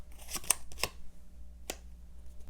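Tarot cards drawn for an advice reading, giving a few brief, close card flicks and slides, a quick cluster near the start and one more a moment later, in a quiet room with no talking.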